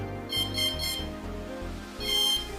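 Quadcopter electronic speed controllers on an APM 2.8 build emit a series of tonal calibration beeps, stepped motor tones in a short melodic sequence followed by a higher double beep, moderately quiet and close, with no talk.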